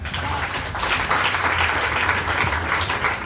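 Audience at an entrepreneurship conference applauding, a dense steady wash of many hands clapping together, loud and sustained throughout without a break.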